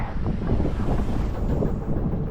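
Wind buffets the microphone on open water while sea kayaking along a foggy Maine coast, a continuous low roar and rumble with soft gusting swells and no talk.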